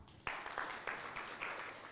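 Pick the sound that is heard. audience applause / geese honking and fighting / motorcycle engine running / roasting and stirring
audience applause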